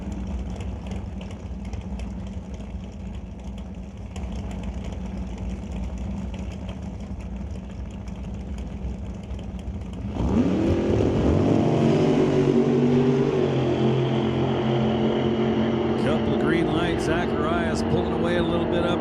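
A 1969 Camaro drag car nicknamed the Grinch at Mission Raceway Park roars into a loud, sustained engine blast halfway through, after a quieter stretch of background rumble, with an announcer talking throughout.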